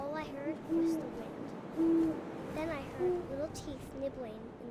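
An owl hooting in the video game What Remains of Edith Finch, several soft, evenly spaced hoots roughly a second apart, clear but modest in level over a quiet breezy outdoor ambience.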